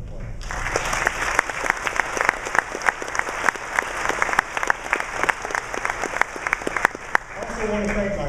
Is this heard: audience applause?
yes